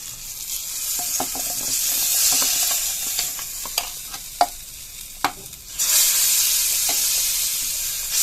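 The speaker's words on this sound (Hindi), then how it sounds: "और छौंक लगा लेते हैं।" Tadka tempering for dal, with Kashmiri chilli, coriander powder and garam masala in hot oil, crackles and sizzles loudly with a steady hiss, punctuated by sharp pops and clinks from stirring, surging again near the end.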